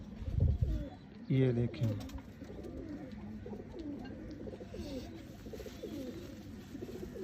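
A male Kamgar pigeon of the Mian Nazir bloodline coos in repeated soft, low rolling phrases close by, with someone talking over the birds throughout.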